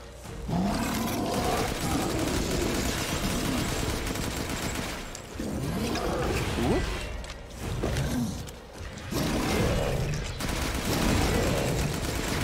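Gunfire rings out during Resident Evil Village, with repeated loud shots and bursts mixed with creature-like roars across a chaotic, dense game soundscape.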